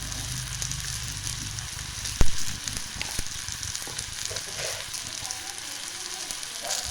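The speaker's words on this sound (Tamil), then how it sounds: "எல்லாம் சேர்த்து நல்லா மிக்ஸ் பண்ணி விட்டேங்க." Sri Lankan pork masala curry sizzles steadily in the pan as it is stirred and mixed, a continuous close frying hiss with a sharp clank of the utensil partway through.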